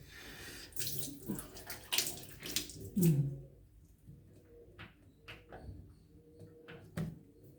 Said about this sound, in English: I'm going to be using my warm water on my face.